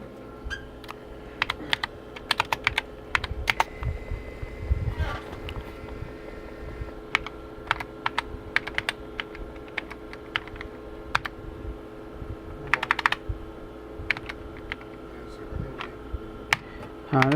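Someone types steadily on an old computer keyboard pulled from a dumpster. The keys clatter in quick irregular bursts over a constant electrical hum.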